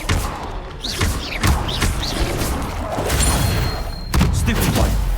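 A fire spell cast in a video game, with repeated thuds and crashing bursts of combat effects layered over game sound and music throughout.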